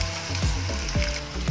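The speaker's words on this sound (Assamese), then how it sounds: "পিঁয়াজখিনি যেতিয়ালৈকে বাদামী ৰং নহয় তেতিয়ালৈকে মই অকণমান ভাজি ল'ম" Onions frying in a pan until brown give a continuous close sizzle, with several recurring swooping tones that may be a utensil scraping or stirring the pan, and no talking.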